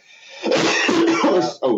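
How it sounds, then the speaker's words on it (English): A man coughs close to the mic, making a rough, hacking burst that runs over a second and then breaks off, followed by one more short cough. "I'm coughing because"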